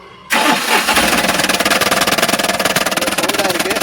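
A Tata Ace Gold BS6 mini truck engine cranks and catches after a moment of quiet, then settles into a loud, close, rhythmically pulsing diesel idle.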